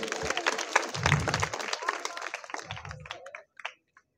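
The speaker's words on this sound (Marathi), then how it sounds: "जोरात टाळ्या झाल्या पाहिजेत" Audience applause at a comedy hypnotism show in Ichalkaranji, a dense patter of clapping mixed with talking voices and low thumps, fading out toward the end.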